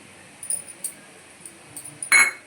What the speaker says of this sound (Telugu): తెల్లగడ్డ, ఎర్రగడ్డ, 4-5 ముక్కలు కొబ్బరి, చెక్క, లవంగాలు అన్నీ ఇందులో ఉన్నాయి. మిక్సీ గిన్నెలో వేసేసి